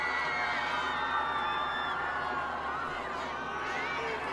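Large crowd of pilgrims in St. Peter's Square, Vatican, at an Easter Sunday gathering, a steady wash of cheering and shouting voices with whistles and whoops, continuous and fairly loud throughout.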